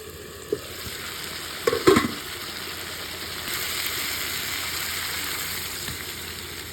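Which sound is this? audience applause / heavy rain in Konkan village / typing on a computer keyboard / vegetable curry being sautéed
vegetable curry being sautéed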